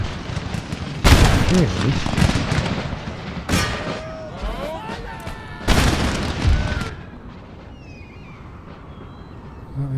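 Booming artillery fire from a DarthMod-modded Empire: Total War battle, with three heavy blasts rolling across the field at roughly two-second intervals amid battle clamor and a brief voice.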